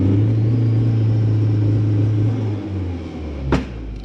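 A car holds a steady low engine rumble at the line with the clutch and accelerator pressed hard for a launch-control start on a wet road, and the note shifts and drops near the end.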